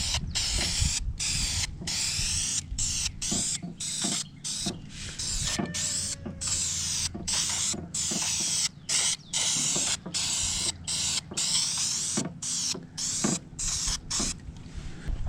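A spray gun lays another coat of satin finish paint on a 1977 Chevy C20 squarebody flatbed, a steady close hiss broken by short, regular pauses as the trigger releases, with faint mechanical creaks beneath.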